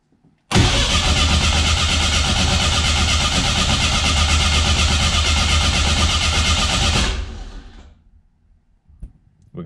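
A 500hp turbocharged 2.3-litre engine cranks and fires, then runs at a loud, steady, rough idle for about seven seconds before shutting off, leaving faint clicks afterward.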